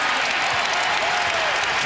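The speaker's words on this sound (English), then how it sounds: "And now the crowd coming to life again." A big basketball arena crowd roars and applauds in a sustained, loud wash of cheering at an NBA game between the Utah Jazz and the Minnesota Timberwolves.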